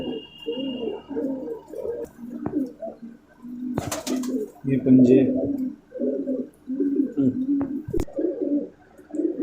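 A Malwai pigeon coos in repeated low, throaty phrases while being handled close up, with someone talking over the cooing and a few sharp handling knocks.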